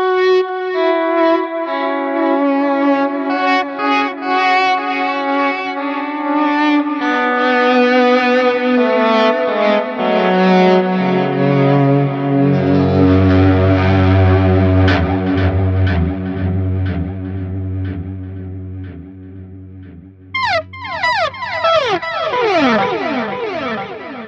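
Electric guitar with Seymour Duncan JB and 59 pickups run through a Fractal Audio FM3, layered sliding tones swooping and cascading downward, ending in rapid squealing glides that mimic seagull cries.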